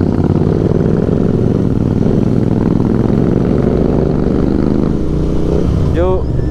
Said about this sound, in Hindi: पहली बार बाइक पे मैं डलियारा से आगे,